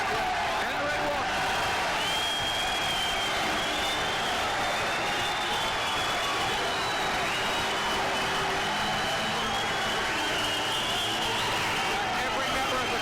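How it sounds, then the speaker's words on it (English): A boxing arena crowd roars and applauds for Henry Wharton, Commonwealth Super Middleweight Champion, at a near-sellout fight against Kenny Schaefer. The dense, sustained cheering sits under steady commentary. "A thunderous reception for Wharton."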